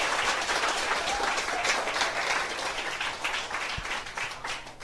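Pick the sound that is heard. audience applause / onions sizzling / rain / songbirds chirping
audience applause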